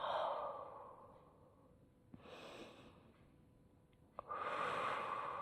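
Deep, audible breaths during an intermediate vinyasa yoga heart-opening sequence: a long airy exhale at the start, a quiet pause, then another full breath near the end, close and alone.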